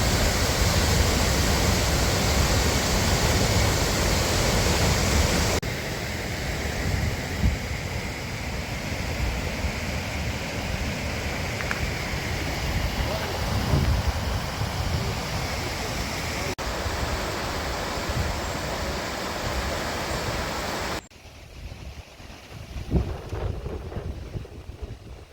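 Hardraw Force, a 100-foot waterfall in the Yorkshire Dales, roars as a continuous broadband rush of falling water, mixed with gusts of wind buffeting the microphone and cut short near the end.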